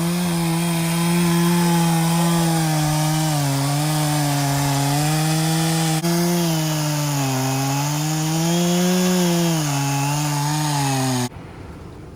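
A chainsaw roars loudly and continuously, its pitch wavering as it bites into a fallen tree, then cuts off abruptly near the end, leaving quiet.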